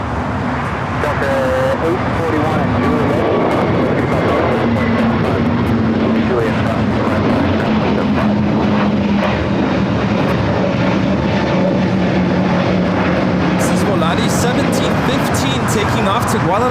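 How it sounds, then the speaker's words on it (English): Airbus A321neo jet taking off at LAX, a steady loud engine roar with a broad rumble held for the whole stretch, blended with distant traffic, while a voice talks over it throughout. "Taking off to Guadalajara on the A321neo."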